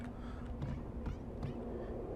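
Cats meowing in the game Shadows Over Loathing, several short mews scattered over a steady low hum at moderate loudness.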